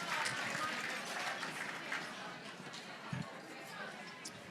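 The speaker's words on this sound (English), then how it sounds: "Give them a big round of applause." Audience applause for the winning team, the Mighty Otters, at an annual charity fundraiser; fairly faint, diffuse clapping and crowd murmur spread through the room with a few louder claps standing out.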